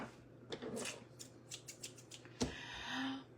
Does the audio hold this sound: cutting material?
yes